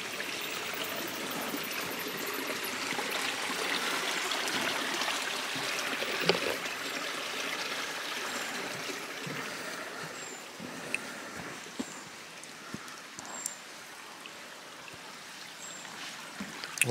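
A mountain stream rushes steadily beside a hiking trail in the Ruppertsklamm gorge, a continuous broad wash of flowing water with a few faint clicks and taps near the end.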